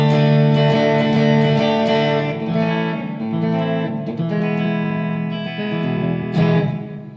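An electric guitar, a Vintage Series HB ST 62 Clapton model, rings through an amp with the gain raised, playing a string of sustained, slightly distorted notes and chords alone, loud and close.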